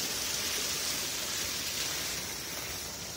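A waterfall pours steadily near a fishing spot, a dense unbroken hiss of falling water that stays loud and even throughout with no voices.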